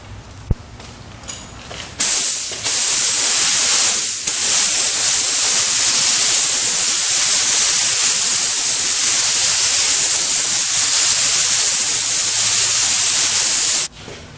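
A spray gun lays down the final blended coat of colour paint, a loud, steady hiss that begins after a couple of short bursts and carries on unbroken for about twelve seconds before stopping abruptly.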